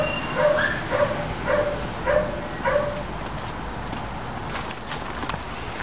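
In animal shelter kennels, one dog gives a run of about five sharp, evenly spaced barks. The barking then stops, leaving faint background noise.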